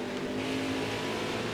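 Race truck engine in NASCAR Heat 5, a steady droning hum held at constant pitch and volume for a moment, with no voices.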